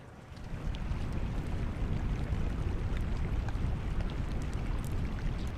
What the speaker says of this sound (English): Listen to that sound. Ice in the water.